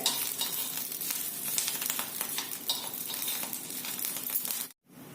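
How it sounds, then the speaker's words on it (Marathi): Green chillies roast in a little oil in a pan, a steady close sizzle with stirring scrapes and light metallic clinks, ending in a brief silence. "अगदी थोडस तेल घालायचं आणि परत मिरच्या आपण भाजून घ्यायचंय"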